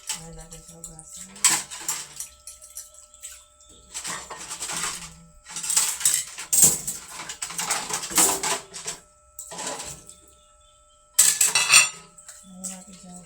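Dishes, pots and cutlery are washed at a sink, with running water in intermittent bursts, clinking metal and scraping utensils close by, separated by quiet pauses.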